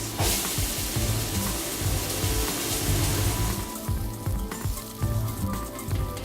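Garden scallions and onions fry in oil with a loud, crackling sizzle close by, churning and uneven under some clattering stirring, thinning slightly toward the end.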